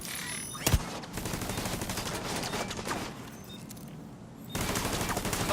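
Dark Zone combat in The Division 2 brings a sharp close gunshot, then sustained rapid automatic fire. The shooting dips briefly before resuming at full density.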